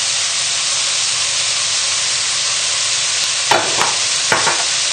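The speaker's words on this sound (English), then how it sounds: "And just stir this around, and all we're going to do here is just start the cooking off" Red onions with salt sizzle and hiss steadily in a hot pan, with a couple of sharp stirring scrapes breaking through the constant frying noise near the end.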